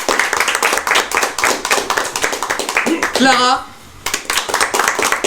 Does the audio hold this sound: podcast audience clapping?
yes